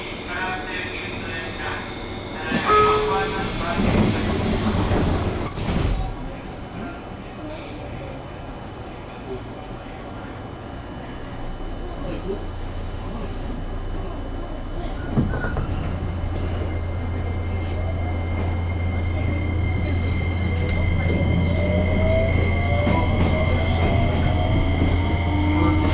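A JR Kyushu 303 series local train runs between Chikuzen-Maebaru and Meinohama with a steady low rumble of wheels and motors inside the car, a loud clattering burst early on and a rising motor whine building toward the end.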